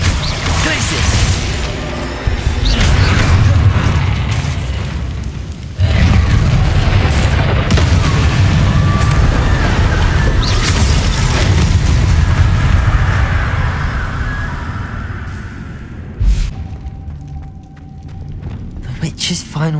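Spell blasts and explosions in the Hogwarts Legacy video game, a run of heavy booming impacts and crackling bursts with dense rumbling combat noise, a voice calling out incantations between hits.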